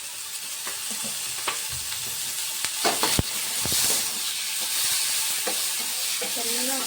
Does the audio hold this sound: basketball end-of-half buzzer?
no